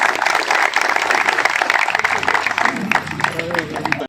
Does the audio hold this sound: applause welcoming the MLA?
yes